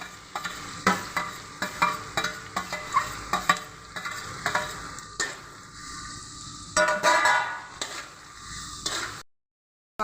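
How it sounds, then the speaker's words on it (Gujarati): Onions and capsicum frying in a pan and stirred continuously for a pasta dish, giving repeated sharp scraping strokes of a spatula over a bright sizzle, close and fairly loud, ending in a sudden silence. "ડુંગળી આ રીતે સતત હલાવતા રહીને સારી રીતે આપણે એને થોડું ક્રિસ્પી ક્રંચનેસ આવી જાય"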